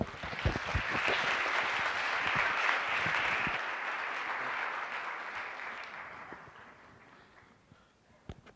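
An audience at HAW Talks, Harvard Arab Weekend at Harvard Law School, applauds to welcome a speaker with steady, fairly close clapping that slowly fades out, and a few louder claps stand out near the start and the end.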